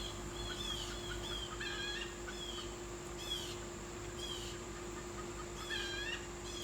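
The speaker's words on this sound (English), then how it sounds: "Dang, those birds are going at it." Outdoor chickens cluck and squawk busily, with repeated excited calls rising over a steady background hum, moderately close and continuing throughout.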